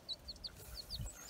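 A baby chick cheeps in quick, thin, high peeps, about eight in a loose rhythm, soft and close against a low rumble of background noise.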